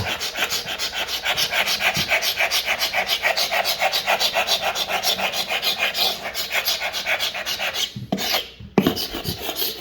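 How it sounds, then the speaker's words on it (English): Hand scraper rasping old finish off a hardwood floor in steady, rhythmic back-and-forth strokes, close and loud, with a brief pause and a couple of knocks near the end. "See if I can scrape this off right here."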